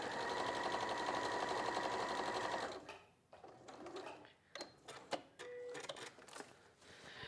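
A sewing machine runs steadily and loudly while stitching the side seam of a Vienne dress, then stops, leaving scattered handling clicks and rustles of fabric.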